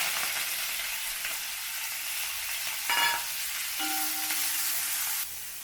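Loud, steady sizzling of onions, green chillies and curry leaves frying in hot oil, with a brief burst of stirring midway; no talking.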